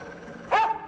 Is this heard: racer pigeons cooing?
no